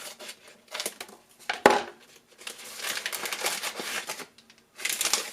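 Scissors cut open the plastic packaging of an LOL Surprise OMG Remix Rocker Boi doll, with close, irregular crinkling and rustling, one sharp snip, and several bursts of handling noise.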